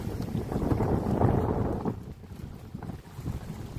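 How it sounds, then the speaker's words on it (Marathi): Water on Chincholi lake surges in waves, a steady broad rush with heavy wind buffeting the microphone, loud and continuous before easing slightly. "अगदी लाटाच्या स्वरूपात असं पाणी उसळतं आहे"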